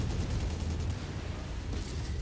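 Continuous heavy artillery bombardment in the MechWarrior 5 video game, a dense low rumble of overlapping blasts and booms rolling steadily without pause, loud and sustained throughout.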